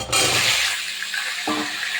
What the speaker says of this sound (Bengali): মাছ ভাজার তেল আছে তেলের ভিতরে আমি আলু দিয়ে দেবো